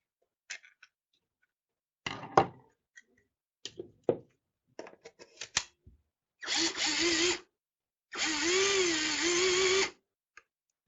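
Scattered clicks and handling knocks, then two bursts of a cordless drill motor whirring with a rising whine during battery repair testing, the second burst longer and close by.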